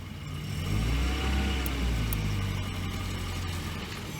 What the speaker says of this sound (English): She's sitting here idling.